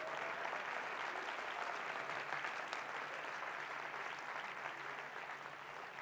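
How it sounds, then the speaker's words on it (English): Steady applause fills a hall at PASIC 2025, a percussion convention session on quad drumming, as the audience claps continuously in a thick, even roar that stays level, slightly distant and without talk. "Let's give him a round of applause right now."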